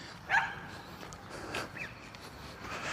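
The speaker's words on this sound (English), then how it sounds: "there's a dog barking across the street" A small dog barks from across the street, a few faint, distant yaps spread over a quiet outdoor background.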